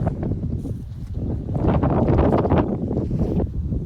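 Strong wind blowing across a groundnut farm field near a windmill, loud gusty buffeting rush that swells and eases over a few seconds, close to the microphone with no talk.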